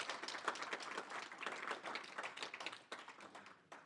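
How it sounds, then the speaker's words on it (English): A small audience claps after a talk on electronic elections, a short, moderately quiet burst of scattered hand claps with little talk over it. "You can clap."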